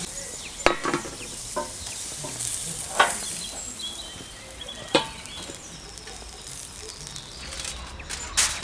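Côte de boeuf steak sizzles steadily on a grill, a continuous close crackle and hiss with scattered louder pops and no one talking.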